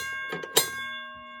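A mine signal bell at a historic Nevada silver mine strikes sharply with a bright metallic clang, followed by a sustained ringing tone that slowly decays, heard alone and fairly close.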